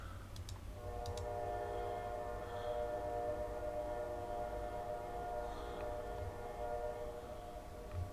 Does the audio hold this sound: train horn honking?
yes